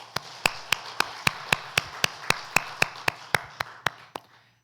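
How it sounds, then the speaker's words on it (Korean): A church congregation at a Sunday daytime service claps together in celebration: about fifteen crisp, evenly spaced unison claps in a steady rhythm, tapering off and stopping near the end. "우리 박수로 축하합시다"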